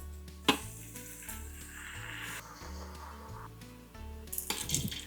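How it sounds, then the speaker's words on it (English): Andouille sausage, black-eyed peas and tomatoes dropping into a hot Instant Pot soup base, a sudden thump followed by steady soft sizzling, then clattering and scraping toward the end. "time to add in our sausage and black-eyed peas"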